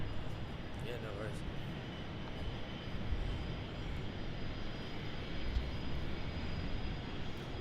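Steady broadband roar of a Qantas Embraer E190AR airliner on final approach to runway 01 right at Brisbane Airport, arriving from Canberra, a continuous engine rumble holding at an even, moderate level throughout.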